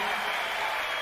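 Brief burst of crowd applause at a large zouk concert at Bercy, a dense, steady wash of many hands clapping heard faintly and at a distance for about a second.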